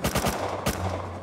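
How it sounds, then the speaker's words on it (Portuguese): Rapid burst of gunfire in the survival video game Rust: several close, sharp shots in quick succession at the start, one more shot a little later, and a low steady hum underneath. "Ó, quem deu tiro?"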